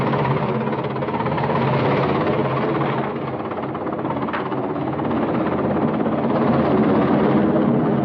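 A helicopter drones steadily overhead, its engine and rotor noise forming a continuous, moderately loud hum with no talking.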